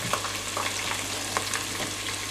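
Onion paste warms and sizzles gently in a pan for a curry base. A steady low frying hiss carries a few faint stirring clicks, with a low steady hum underneath and no voices.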